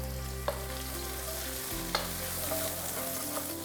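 Ginger, onions, chilies and garlic sizzle in a hot pan for a kale and chickpea curry, a steady frying hiss with a low hum beneath and a few sharp scrapes and clinks as a utensil stirs them.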